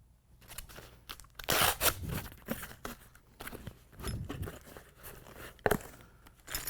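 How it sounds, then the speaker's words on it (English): Scissors snip and slice through a sticker on a cardboard bicycle box before assembly of a sixthreezero Around the Block single-speed bike, giving close, crisp crunching and crinkling cuts in irregular bursts. "cut the sticker."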